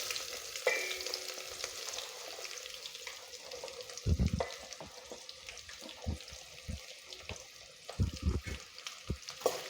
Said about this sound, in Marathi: आता यामध्ये आपण कांदा टाकूया कापलेला